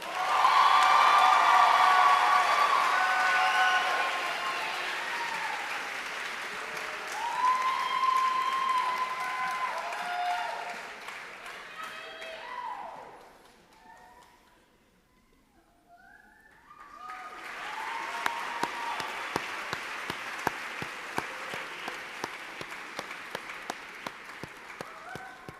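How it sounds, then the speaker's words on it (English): A large audience at a PA program white coat ceremony claps in sustained applause. The clapping fades almost to silence midway, then builds again into renewed, looser applause. A voice is faintly audible early on. "Let's give the class of 2024 another round of applause."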